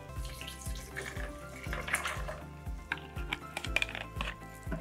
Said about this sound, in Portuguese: Você coloca 1/3 de gelo, 1/3 de água e completa com álcool.